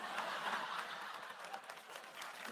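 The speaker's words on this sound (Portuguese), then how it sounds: "Quando vocês aplaudem a piada" A fairly quiet audience at a lecture claps in a steady patter for a couple of seconds, with a few faint chuckles mixed in.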